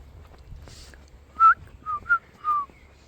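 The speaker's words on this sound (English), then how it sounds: "I learned how to whistle." A person whistles a short tune of four clear notes, the first longest, then two quick ones and a final sustained note, fairly close and alone in a quiet room.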